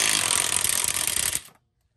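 A short, loud burst of a Milwaukee M12 3/8-inch cordless stubby impact wrench whirring and rattling close by as it removes nuts, cutting off abruptly after about a second and a half, then silence.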